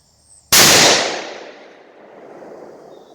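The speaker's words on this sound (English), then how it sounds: "And then you can shoot your rifle." A scoped rifle fires a single sharp, loud shot that rings out and decays into a long echoing tail outdoors.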